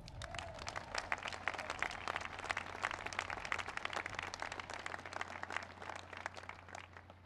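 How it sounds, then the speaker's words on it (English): Sustained audience applause fills an Air Force Academy commencement ceremony, a dense steady clapping from a large crowd that holds for several seconds at moderate distance. "so give them all a big round of applause"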